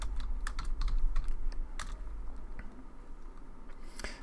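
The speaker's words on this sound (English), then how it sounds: "Then I'll type this in, but I'll explain what I'm doing here in a second." Computer keyboard typing while entering Python code, with rapid irregular key clicks in short bursts, close and moderately loud, without talk.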